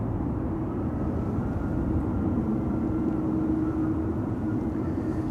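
A Transavia Airbus A321neo airliner arriving at Amsterdam Schiphol, its low, steady engine roar rumbling continuously at a distance with no other sounds over it.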